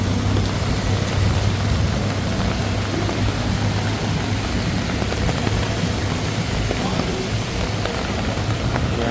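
Heavy monsoon rain pouring at night on a skywalk in Bangkok, Thailand during the rainy season: a dense, continuous, loud hiss of downpour with a low rumble of traffic beneath, steady throughout.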